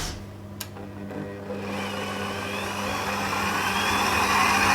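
A Kenwood stand mixer whirs steadily as it beats lemon meringue sponge cake batter, the motor loud and close and rising slightly in pitch after a brief pause at the start.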